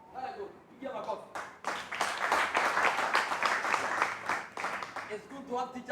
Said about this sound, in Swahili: Pigia makofi.